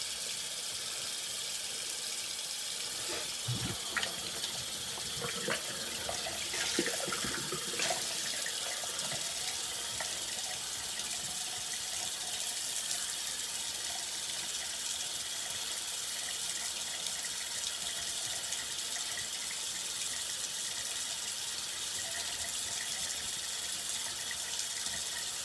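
Tap water runs in a steady, even stream into a sink for a cold towel rinse after shaving, continuous and close for the whole stretch, with a few brief handling clatters early on and no speech.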